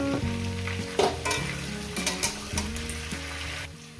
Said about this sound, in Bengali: সামান্য পরিমাণে একটু হলুদ দিয়ে দেবে মিনিমাম পাঁচ মিনিট আমি ভেজে নেব